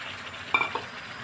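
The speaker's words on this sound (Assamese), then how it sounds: "এইখিনিও ভালদৰে অলপ ভাজি ল'ম।" Chicken and tomato paste fry with masala in a pan, a soft low sizzle with a couple of brief stirring scrapes near the middle.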